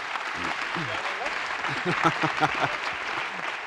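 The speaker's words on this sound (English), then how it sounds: "A round of applause." Audience applause at the Washington Ideas Forum 2014 as Eric Holder takes the stage, sustained crowd clapping with talk running over it.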